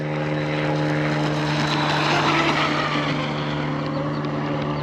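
A vintage nitro RC boat converted to an electric motor whines steadily under a constant droning hum, holding an even moderate throttle throughout.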